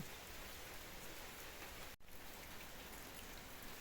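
Steady rainfall, a dense even patter of drops hissing on surfaces, continuous and soft, with a single brief dropout partway through.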